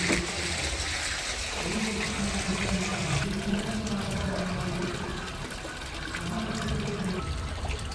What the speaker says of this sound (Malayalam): ഫിൽറ്ററിലേക്ക് കിടക്കുന്നത് ബാക്ക് വാഷിലേക്ക് ആക്കുക എന്നിട്ട് ഇത് ഓപ്പൺ ആക്കി കൊടുക്കുക